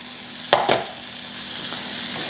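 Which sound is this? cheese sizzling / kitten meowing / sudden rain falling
cheese sizzling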